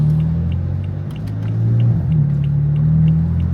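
A BMW F82 M4 or E92 M3 engine rumbles at a low idle, deep and steady, swelling slightly in the middle with a faint ticking above it.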